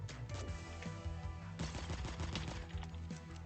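Rapid SMG fire from masked enemies in a tactical shooter game comes in quick, dense bursts of sharp cracks, fairly close and loud, with a brief pause between volleys.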